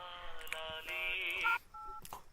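A telephone keypad sounds a quick run of steady electronic dialing tones, a few held beeps in a row and then two short ones, close and clear in a dubbed Telugu movie scene.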